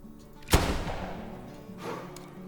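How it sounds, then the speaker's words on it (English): A single sharp rifle shot from a 9.3x74R over-under break-action rifle in the hunting game theHunter Classic, loud and close, followed by a decaying rumbling echo and a fainter thump about a second later. "He starts to take a shot."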